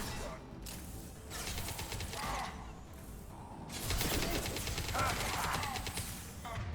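Submachine gun fire in the shooter game Mass Effect 2 comes in two long rattling bursts of rapid shots with mechanical clatter, loud and close.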